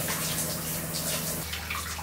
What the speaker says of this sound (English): Hey, I'm showering in here.